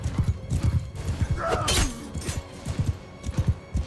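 Galloping horse hooves clip-clop in a steady rhythm during a Mount & Blade II Bannerlord battle, with a sharp whinny rising midway over background battle noise and no talking.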